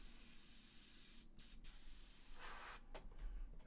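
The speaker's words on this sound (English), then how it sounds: "So just going to spray downwards." Aerosol spray paint hisses in steady bursts onto a McFarlane Toys Hellblaster Primaris marine figure, with two brief pauses early on and several short gaps near the end.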